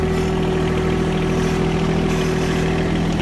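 A vehicle engine idles in four-wheel drive outdoors, a loud steady low drone with a constant hum, close and unbroken.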